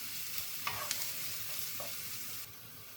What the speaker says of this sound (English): I will stir it for 1 minute